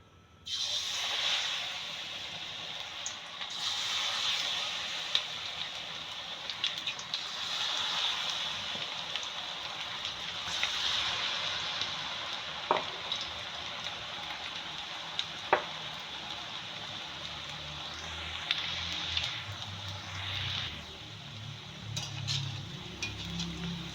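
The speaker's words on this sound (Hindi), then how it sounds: "ऑयल अच्छा सा गरम हो गया है, और अब इसमें मैं डालूँगी पकौड़े।" Vegetable pakoras fry in hot oil, giving a soft, continuous bubbling hiss and sizzle with a few faint clicks, heard alone and fairly quiet throughout.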